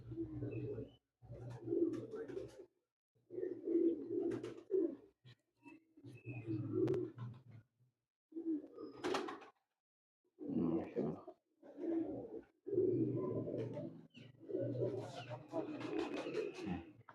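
Teddy pigeons coo up close in repeated low, throaty bursts separated by short pauses, the calls rolling on steadily with brief gaps of quiet between them.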